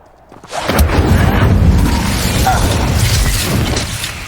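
The Incendio fire spell cast in the Hogwarts Legacy game on PC, a loud close burst that swells into a sustained roaring rumble of flame and impact lasting several seconds after a brief quiet start.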